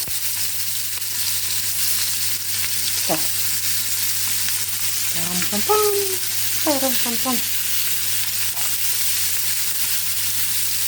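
Onions sizzle in a pan alongside fish steaks, a steady close frying crackle with stirring, broken by a few short voice sounds near the middle.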